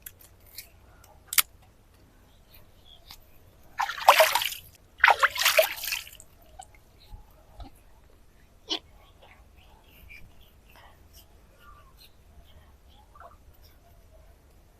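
Vegetables are rinsed by hand in water, two short bursts of splashing and rubbing stand out amid faint clinks and ticks in a quiet room, with no talking.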